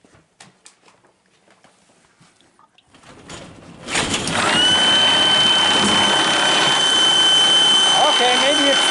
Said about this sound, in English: Let's put the drill on here. Let's try this pump.